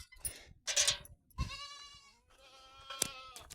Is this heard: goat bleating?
yes